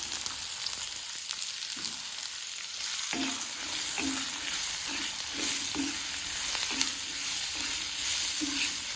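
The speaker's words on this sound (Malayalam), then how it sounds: "ഇത്രയും ഒന്ന് വഴറ്റിയെടുക്കുക കേട്ടോ," Small onions with garlic and sliced onion sauté in oil in a pan for a village-style prawn roast, giving a steady close sizzle with rhythmic scraping stirs of a spoon against the pan.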